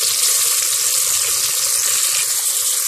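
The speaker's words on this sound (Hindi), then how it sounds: "अच्छे से प्याज़ों को आपने फ्राई करना है" Sliced onions frying in hot oil for palak gosht make a loud, steady hiss with a faint bubbling undertone throughout.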